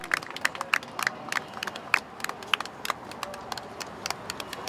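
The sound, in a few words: audience applause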